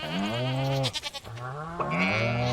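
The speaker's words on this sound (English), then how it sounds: "My goats sound evil now," Two drawn-out wavering goat bleats from the Stardew Valley farm game, loud and close, separated by a short break, with no talking over them.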